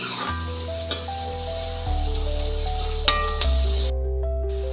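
Onions frying in a pan for a village-style chicken curry give a steady close sizzle, with a couple of sharp utensil clinks, all under a soft melodic background tune.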